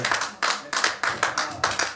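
A church congregation claps for the pastor during a service, a loud, steady rhythmic beat of clapping in regular bursts with some voices mixed in.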